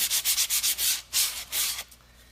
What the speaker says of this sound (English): This is about 120 grit sandpaper.